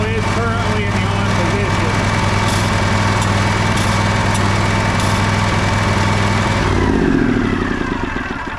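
A riding lawn mower engine with its PTO switched on turns over and runs in a loud, steady, close drone, and a person talks over it.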